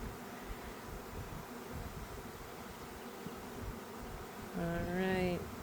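Honeybees from a newly installed package hum and buzz steadily around hives outdoors, a dense continuous drone, with a louder, higher bee buzz passing close near the end.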